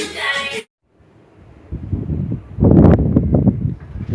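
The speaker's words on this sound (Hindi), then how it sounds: "ये हवा चल रही है इतनी तेज़" Strong afternoon wind gusts buffet the microphone outdoors in low, uneven rushes that grow louder, following a brief burst of voice at the very start.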